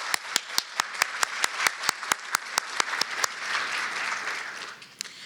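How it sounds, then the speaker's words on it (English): Sharp, evenly spaced claps ring out near the start, then a crowd of conference attendees breaks into full applause that swells and fades out, with a final lone clap at the end. "Could we please give them a big hand of applause?"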